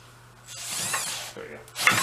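A handheld electric drill spins up and whirs as it turns over the engine of a Chrysler Snow Runner snowmobile, rising in two short mechanical bursts with a ratcheting edge, close and fairly loud.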